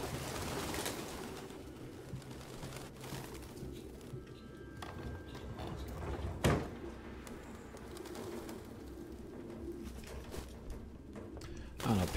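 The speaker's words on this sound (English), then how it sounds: "Pigeons have always been so, like, interesting to me." Pigeons coo softly and repeatedly inside the video game Detroit Become Human, low murmuring calls against a quiet room ambience, with a person talking intermittently over them.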